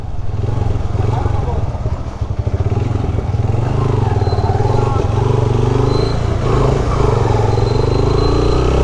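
A motorbike rolls through a toll plaza in Pakistan, its engine a loud, close, steady drone with rising and falling revs and wind rumble, while someone talks over it.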